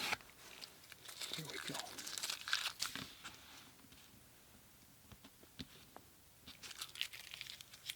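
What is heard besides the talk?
tape being lifted off a watercolor painting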